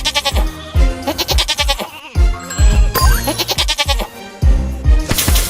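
Sheep bleat loudly and repeatedly in quick succession, several overlapping nasal cries filling the scene on a farm with no talking.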